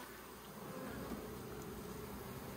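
Faint, continuous droning hum of many bees inside a hive newly filled by a swarm, steady and even with no voices.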